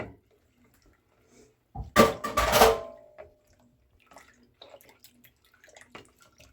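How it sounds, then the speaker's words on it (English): A short burst of cold water pouring into a pitcher for about a second, followed by a few faint clinks and quiet taps. "we're going to go ahead and pour in the cold water and stir that"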